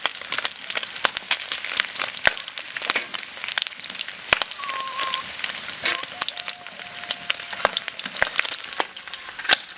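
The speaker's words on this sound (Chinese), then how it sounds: "这炸的崩油的很" Pork ribs fry in hot oil, crackling and popping in dense, irregular spatters over a constant sizzle, with a couple of faint tonal scrapes partway through.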